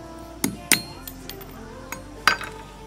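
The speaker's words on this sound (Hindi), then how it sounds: "अब हमें चाहिए डिश एंटीना में लगने वाला केबल का नट और इसको मैं तोड़ दे रहा हूँ।" A metal dish antenna cable nut snaps apart, giving a few sharp, close metallic clinks and cracks spaced over a couple of seconds, with quiet pauses between them.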